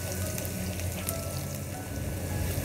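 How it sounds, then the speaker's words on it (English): Garlic sautés in about four tablespoons of oil, giving a soft, steady sizzle with faint crackles, heard close by and alone. "saute the garlic, saute it until it get a brown color"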